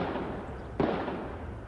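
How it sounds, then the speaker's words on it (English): A single sharp gunshot cracks during a downtown bank shooting, echoing briefly off the streets over a low, steady background hum. "The gunfire echoing through downtown streets"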